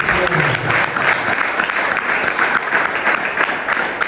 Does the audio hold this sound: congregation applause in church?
yes